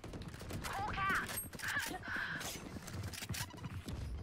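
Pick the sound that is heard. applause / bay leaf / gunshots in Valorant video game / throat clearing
gunshots in Valorant video game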